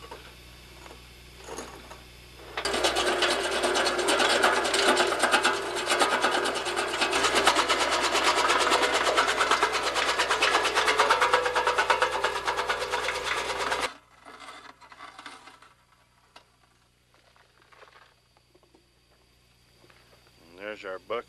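A grinder pulverizes slag into fines with a loud, dense grinding roar that runs about eleven seconds and then cuts off, followed by quieter talk between people.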